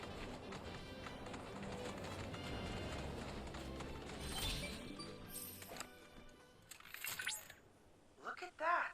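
Chocobo footsteps in Final Fantasy 7 Rebirth, a steady run of quick clip-clop strides under game sounds and a speaking voice, followed by a few louder thumps near the end.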